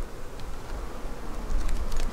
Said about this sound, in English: what we have here is a lot of bees